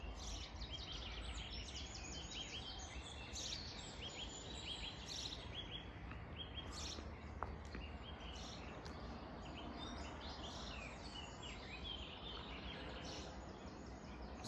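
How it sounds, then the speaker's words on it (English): Many birds chirp and sing together at sunrise over a dense, continuous outdoor background, faint and layered rather than close. "the symphony of birds."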